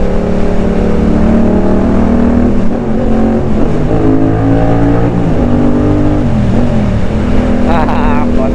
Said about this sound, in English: I feel like a 16-year-old going through there on my bike